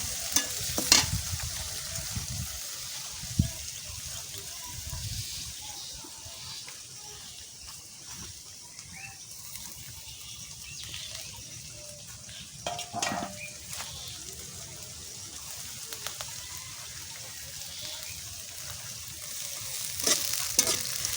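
Dried shutki fish frying in a pan with a steady low sizzle and occasional stirring scrapes and clatter, the frying continuing quietly underneath throughout.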